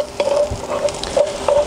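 Garlic stirred into a frying pan for beef shin chili con carne, soft sizzling under a few light scraping strokes of a utensil against the pan, close and fairly quiet.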